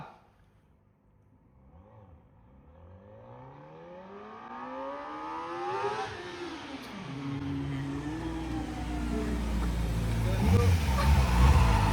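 A Kawasaki mini bike engine revving and shifting gears, its pitch climbing and dropping in sweeping rises as it pulls away, growing louder and rougher toward the end.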